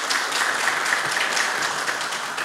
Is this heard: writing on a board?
no